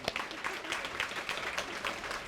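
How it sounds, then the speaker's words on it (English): Students from health sciences, humanities and other colleges clap together at a university high tea, a soft, steady patter of many hands heard from a distance throughout. "so let's clap."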